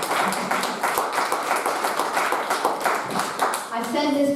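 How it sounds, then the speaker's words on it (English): An audience at a county constable candidate debate claps for the candidates: dense, steady, close-sounding clapping for about four seconds, with a voice starting up near the end. "how about a big round of applause for these candidates?"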